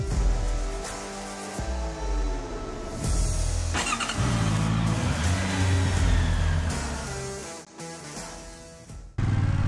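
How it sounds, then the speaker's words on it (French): A 2022 Yamaha R7 sport motorcycle fitted with an Akrapovic exhaust revs repeatedly, its engine note climbing and falling in several loud, close bursts with brief drops between them and no talking. "Le petit son de l'Acra, parce qu'elle est équipée d'un Acra."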